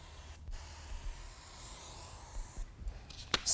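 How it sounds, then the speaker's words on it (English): Continuous hiss of a spray adhesive aerosol can coating a pad, steady for a few seconds with brief breaks and faint handling noise at the end. "Going to spray the pad"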